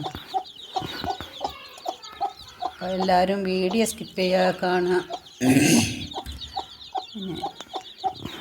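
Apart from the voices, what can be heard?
chickens clucking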